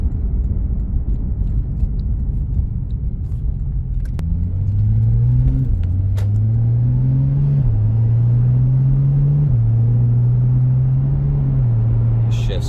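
A 2014 Porsche 911 Turbo S pulls away under steady engine rumble, its pitch climbing and dropping in a stepped pattern through several smooth gear shifts, loud and close from the cabin.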